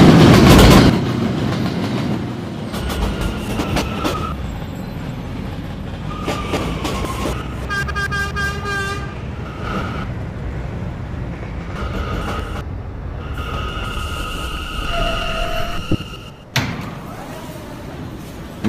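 A five-car R179 subway train runs through a tunnel, its steady rumble punctuated by clickety-clack over rail joints, a door slam and tonal hums from the motors, loud and close throughout.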